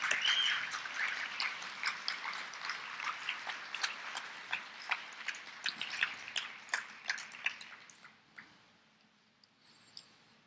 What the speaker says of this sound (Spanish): Da un aplauso al Padre